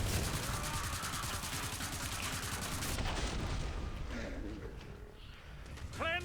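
Rocket launcher fire in the video game Killing Floor 2, heard as dense, continuous bursts of gunfire and explosive blasts over a roaring battle din, with mechanical clatter and a few chirpy game effects near the end.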